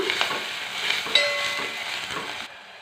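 Cumin, onion, curry leaves and green chillies with turmeric fry in oil for a Telugu chicken curry with greens, a steady close sizzle broken by faint stirring scrapes, cutting off abruptly near the end.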